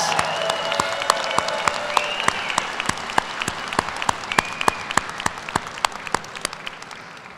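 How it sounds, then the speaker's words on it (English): Applause for master's degree graduates at a College of Education graduation ceremony, a fairly dense patter with distinct sharp claps standing out, slowly fading over several seconds as a voice briefly sounds at the start. "Will you please join me in giving them a big round of applause?"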